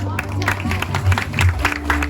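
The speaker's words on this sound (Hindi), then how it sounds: "तालियां नहीं रुकनी चाहिए।" Applause from the audience at a Disability Day 2025 event at CL Gupta Eye Institute, a steady patter of clapping mixed with crowd murmur and a background hum, loud and close throughout.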